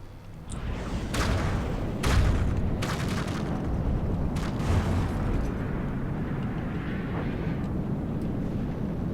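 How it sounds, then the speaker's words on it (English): A ship's bow blows apart in the naval combat game From the Depths, a loud booming blast with several sharp bursts over a sustained roaring rumble that carries on for the whole stretch, with no voices. "Huge explosion in the bow there."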